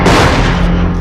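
Loud, close gunfire erupting as a dense burst of booming shots that fill the whole second without a pause.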